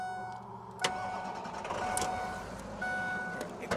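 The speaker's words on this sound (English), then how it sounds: "I'm gonna pop the hood and start the motor so you can hear it run" A 2007 Braun vehicle's motor starts with a sharp catch, then runs at a low, steady idle. It is close but fairly quiet, with a few clicks and faint tonal beeps over the engine.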